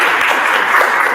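Loud, close round of applause from an audience at a freshman student council speakout event, a dense burst of clapping filling the whole brief moment.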